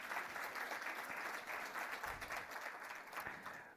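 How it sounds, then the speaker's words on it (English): An audience at a women in finance and insurance summit in Namibia applauds steadily, a dense sustained clapping that fills the hall without any talking over it. "Please give yourselves a round of applause."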